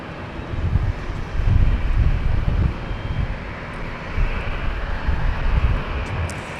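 A WestJet airliner on the north runway at LAX produces a deep, rumbling engine roar that swells and ebbs, mixed with buffeting wind noise.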